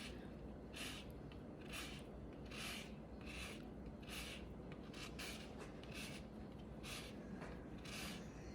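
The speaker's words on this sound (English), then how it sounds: "Next, we're going to zest a lemon." Lemon being zested on a metal grater, a steady run of short rasping strokes in quick rhythm, close and alone with no talk.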